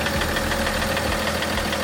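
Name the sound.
knocking engine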